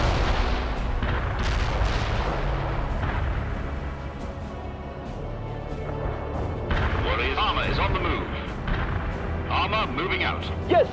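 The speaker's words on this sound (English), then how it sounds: "Commence artillery strike." An artillery strike in World in Conflict, heavy booming impacts and rumbling explosions rolling one after another, with voices talking over the barrage.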